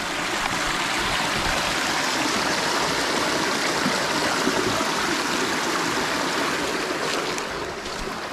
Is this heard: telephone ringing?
no